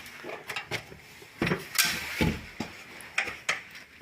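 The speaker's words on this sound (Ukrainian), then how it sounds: "І тепер можна відкручувати, зараз я покажу." A nut is being unscrewed on the gearbox of a FIAT Doblo 223 1.9 JTD during its removal. Close, quiet ratcheting clicks and metallic knocks come in an irregular series of short bursts.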